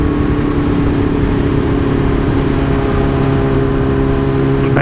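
A motorcycle rides through traffic with a loud, continuous engine drone and rushing wind, its pitch rising slightly toward the end, close and with no voices.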